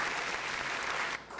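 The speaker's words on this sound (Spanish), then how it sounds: "Vamos a recibir también con un aplauso a un segundo conductor que es Saúl May." Audience applause welcoming a new host onto the stage, a brief dense patter of clapping that runs steadily, then drops away abruptly near the end.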